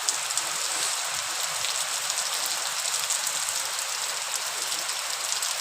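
Heavy rain pours steadily in a village during the monsoon, a dense, continuous hiss of drops hitting surfaces that stays loud and unbroken throughout with no voices.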